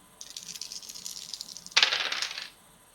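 Four dice clatter across a tabletop during a tabletop role-playing game session, a rattling roll followed by a sharper, louder tumble before settling, with no voices.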